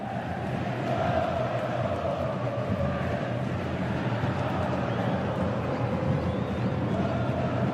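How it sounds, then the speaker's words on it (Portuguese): Corinthians supporters celebrating in a stadium at a 2014 Brazilian league match against Bahia, a steady, distant roar of crowd chanting and cheering that continues without a break. "Vai comemorando até esse instante uma vitória importantíssima a torcida do Corinthians."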